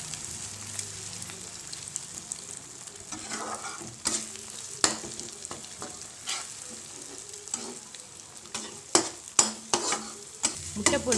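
Eggs beaten with salt are stirred and scrambled in a hot pan for quick egg rice, giving a steady sizzle broken by frequent scraping and clacking strokes of the spoon that grow louder and more rapid toward the end.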